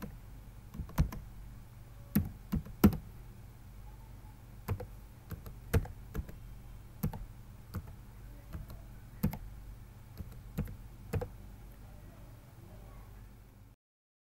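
Password being typed on a computer keyboard, sparse close key clicks in uneven bursts with pauses between, fairly quiet over a low background hum.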